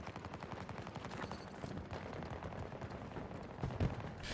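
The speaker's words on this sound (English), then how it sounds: "Too many to shoot at." Rapid gunfire in the video game Battlefield, a dense stream of quick shots forming a steady automatic rattle throughout, with a slightly heavier burst near the end.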